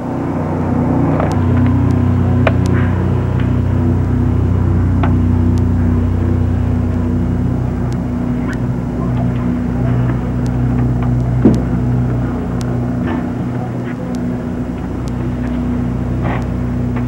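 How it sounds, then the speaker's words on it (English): Inside a moving Amtrak passenger train, a loud, steady low rumble with humming drone tones, punctuated by scattered clicks and knocks from the running gear and a sharper clunk midway. "Obviously we are on the train right now."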